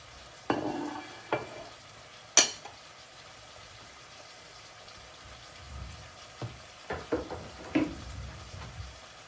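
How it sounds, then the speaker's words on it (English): Chicken pieces pushed around a pan for satay chicken stir-fried with greens, giving a faint background sizzle with several scattered scraping knocks of a utensil against the pan, near and unhurried. "So just move your chicken around."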